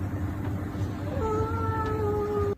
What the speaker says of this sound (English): You see that kitten, Aslan?